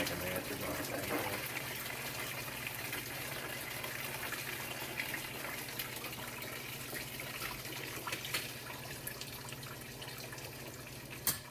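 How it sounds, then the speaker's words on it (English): Fluid draining from a vehicle radiator makes a faint, steady gushing flow that runs the whole time, with a small knock near the end. "The radiator will drain for a very long time, though."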